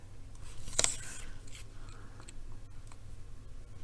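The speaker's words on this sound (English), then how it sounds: "We'll trim off that extra, just like that." Scissors make one short, crisp snip trimming paper for a handmade card, followed by faint handling rustle in a quiet room.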